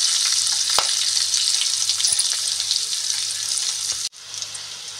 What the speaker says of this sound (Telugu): కొద్దిగా వేగిన తర్వాత ఉల్లిపాయలు వేసుకుందాం.